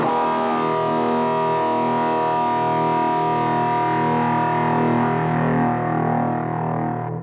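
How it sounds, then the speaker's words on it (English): A single distorted electric guitar chord rings out loud and sustained, slowly fading at the end. "So it was a distorted guitar"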